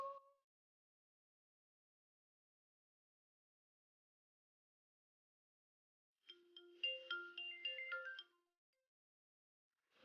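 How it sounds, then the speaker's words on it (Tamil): A phone's incoming-call ringtone plays a short melodic burst near the end after near silence, with a brief tone at the start. "அவ எதிரி அனிதா தான் கால் பண்ணுறான"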